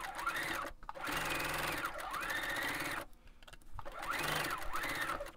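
A sewing machine runs stitches through fabric for a table runner in steady, whirring bursts, each lasting about a second or two and separated by brief pauses, heard close and alone at moderate volume.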